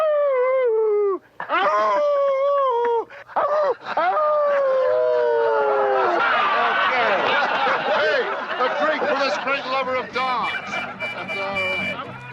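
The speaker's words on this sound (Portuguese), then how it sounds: "Engraçado, ele começa a uivar, né?" In a film scene, a dog howls in long, wavering, rising and falling tones, repeated several times and gradually joined by a denser, rougher chorus of howls and whines.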